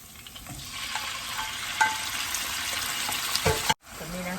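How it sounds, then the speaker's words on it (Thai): Pork stir-fries in a hot pan for sweet soy sauce pork with broccoli. A loud, steady sizzle carries a few clinks of the spatula, then stops abruptly before resuming briefly. "ใส่หมูลงไปผัดนะคะ"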